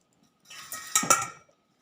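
A spoon knocks and scrapes against a pot of boiling seasoned water and rice for Palembang nasi minyak, giving a few quick metallic clinks and taps in a brief, close, quiet burst.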